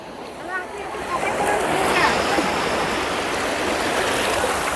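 Steady wash of sea waves and surf rushing close by at Digha beach, a continuous loud roar with splashing that swells slightly, a voice faintly under it.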